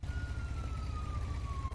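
A police siren in the video game GTA V, one smooth falling wail, steady and fairly loud over a low rumbling game background, brief and alone without talk.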